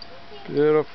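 A short, rising whine with a clear harmonic tone, heard once near the end of a quiet stretch, like a small dog whimpering close by.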